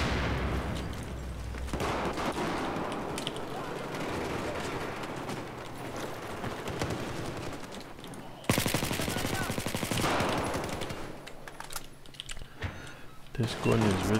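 ACE-21 CQB rifle fire in Battlefield 4, with repeated rapid bursts of automatic gunfire over several seconds and a sharper, louder volley partway through, plus other battle noise around it.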